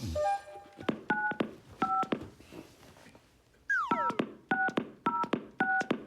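A series of short telephone keypad tones beeps in quick groups from a red phone, with a brief pause and a sweeping electronic tone in the middle.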